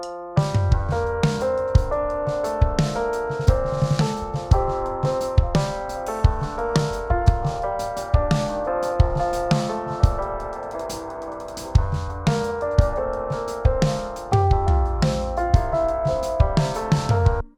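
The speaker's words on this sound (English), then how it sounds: "This is creatively called Lo-Fi Piano." Piano played through a Lo-Fi Piano preset on a piano mixing plugin, steady rhythmic chords and melody with a dull, filtered, slightly crunchy tone, continuous and fairly loud throughout with no voices.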